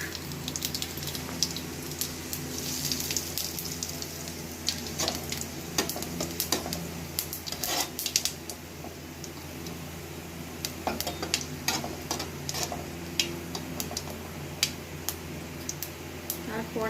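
Panch phoron five-spice seeds fry in hot oil with crackling pops scattered over a steady sizzle, much like rain pattering on a surface, and a voice speaks at times over the cooking.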